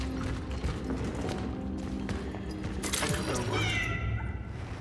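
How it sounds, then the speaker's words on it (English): A cat meowing in the horror video game Cronos, a few short meows rising over a busy background of game ambience and footsteps, with a voice talking over it. "it's a kitty cat."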